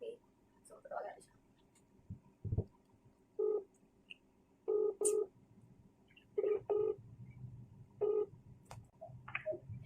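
A mobile phone dials a call, giving a series of short, faint keypad tones in quick pairs and singles against a quiet room, with soft speech nearby.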